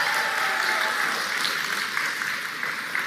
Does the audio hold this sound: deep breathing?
no